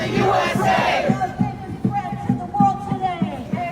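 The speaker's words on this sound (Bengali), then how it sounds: "আমেরিকার রাস্তা রাস্তায় বিক্ষোভ হচ্ছে।" A protest crowd chants in rhythmic unison in an American street, with steady repeated shouted beats and many voices, fairly close and loud.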